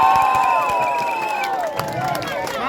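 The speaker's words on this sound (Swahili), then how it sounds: "Makofi bailo, makofi bailo." A crowd at a Kikuyu music festival cheers and applauds loudly and close by, a dense roar of voices and clapping with whistle-like tones rising above it.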